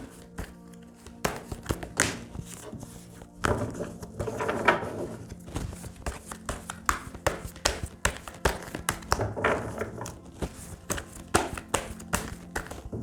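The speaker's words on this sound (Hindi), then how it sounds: "मैं कार्ड्स की शफलिंग कर लेती हूँ।" Tarot cards shuffled by hand for a Hindi tarot reading, giving a run of soft, close taps and riffling flutters in an uneven rhythm, with no talking.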